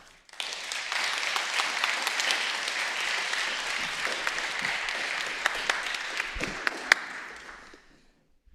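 A large audience applauds after a talk at a university event on sustainability, a dense, steady wash of clapping that swells in quickly, holds for several seconds and fades near the end.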